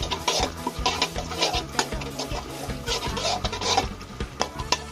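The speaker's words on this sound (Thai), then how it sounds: "ใส่น้ำมันนะครับใส่พริกแห้งกับกระเทียมไป รวนให้หอมนะ" Close sizzling of dried chili and garlic in oil in a pan with repeated scraping and clattering of a spatula stirring, irregular knocks over a constant frying hiss.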